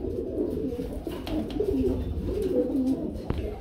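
Young fancy grizzle pigeons coo softly and repeatedly, a low, throaty rolling murmur heard close up with little else around it.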